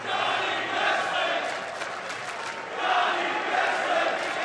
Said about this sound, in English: Very vocal crowd, however, cheering for Johnny Wrestling to start things off.